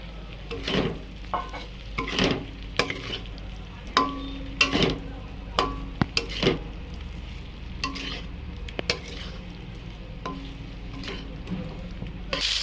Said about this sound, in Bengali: মশলা, কপি সব ভালো করে কষিয়ে নিয়েছি।